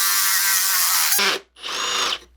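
A power drill driving a 1.5-inch Forstner bit into cedar whines loudly in a steady run for over a second, stops briefly, then bores again for another half second, close and alone.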